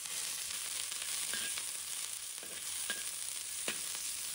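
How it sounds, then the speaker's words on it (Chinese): Pork belly stir-fried in a little hot oil in a wok, giving a steady broadband sizzle with occasional scraping clinks of the spatula, close and fairly loud, with no talking. "油热之后，放入五花肉，把它炒出油脂"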